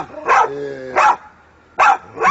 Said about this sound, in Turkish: Şimdi içeride üç tane köpek var.